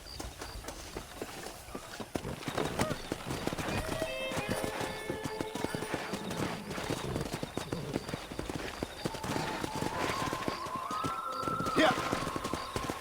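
Hooves clatter rapidly as horses gallop in Red Dead Redemption Remastered, with occasional whinnies and voices over the steady drumming rhythm.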